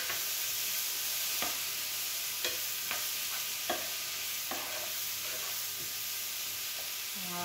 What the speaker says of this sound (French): juste les faire saisir un petit peu